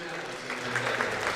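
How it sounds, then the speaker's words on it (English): Crowd applause in a high school boys basketball gym as sportsmanship representatives from Wapakoneta and Defiance meet at half court, a dense steady clapping wash under a voice talking. "And everybody giving both sets of athletes a well-deserved round of applause."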